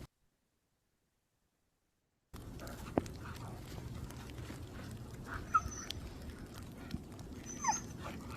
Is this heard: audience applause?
no